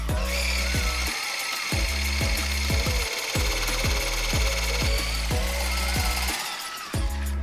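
A mixer whips 100 ml of cold cream with a spoonful of powdered sugar to stiff peaks for a Pavlova dessert, giving a loud, steady motor whir with a regular pulsing beat throughout.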